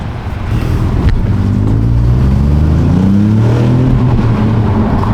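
A 2022 Ford Puma ST fitted with a cat-back exhaust roars past up close, its engine note rising as it accelerates and then sweeping away in a loud, steady drone.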